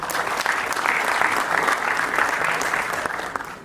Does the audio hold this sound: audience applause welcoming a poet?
yes